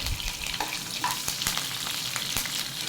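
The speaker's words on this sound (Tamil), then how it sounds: "இப்போ எல்லாத்தையும் நல்லா வறுக்கட்டும், நல்லா பொரியட்டும்." Cinnamon, cloves and curry leaves sizzle and crackle in hot oil, giving a dense, close frying hiss with sharp popping spatters throughout.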